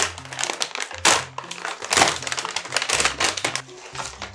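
Cardboard box from a science experiment kit being opened, with loud crinkling, crunching and tearing of packaging in irregular bursts close by, including a sharp crack near the start.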